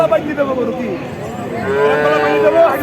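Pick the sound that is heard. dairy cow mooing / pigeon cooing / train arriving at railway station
dairy cow mooing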